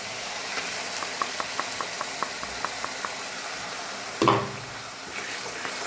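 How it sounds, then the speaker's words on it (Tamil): A pressure cooker full of rice on the stove gives off a steady run of faint, evenly spaced ticks, then a sudden loud burst of steam hiss that fades over the next second, with no one talking. "இடையில் இடையில் இந்த ரைஸோட குக்கரோட சவுண்டு வேறு டிஸ்டர்ப் பண்ணுது"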